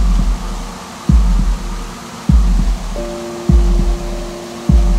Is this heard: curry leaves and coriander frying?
no